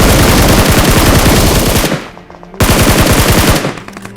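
Rapid automatic gunfire from the video game PUBG, two long loud bursts of fast, evenly spaced shots separated by a short gap.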